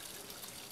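Soft, close trickle of water spilling down a small garden koi pond waterfall, a brief, quiet, continuous splashing with no talk over it.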